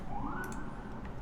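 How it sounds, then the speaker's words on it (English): A distant siren wails and sweeps faintly outdoors beneath a constant low rumble of background noise. "These sirens."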